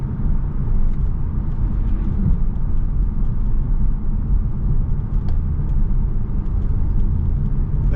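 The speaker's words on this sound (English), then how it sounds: "we do get a significant amount of road noise and wind noise in here, so it's not a quiet cabin" Inside the cabin of a 2024 Hyundai Elantra N-Line, a steady low rumble of road and tire noise drones on evenly without a break, with no one talking.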